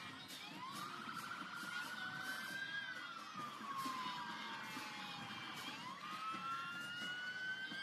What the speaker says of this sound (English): How many sirens have we heard?